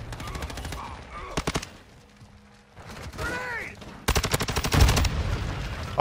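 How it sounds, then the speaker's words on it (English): Gunfire and grenade explosions in the Modern Warfare 2 video game, rapid bursts of automatic fire in clusters with loud blasts, under a player's brief talk. "Oh my god, those grenades."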